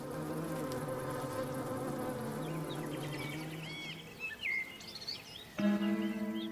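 Close honeybee worker buzzing with a steady droning hum, wavering in pitch, with faint chirps above and a louder buzz starting near the end.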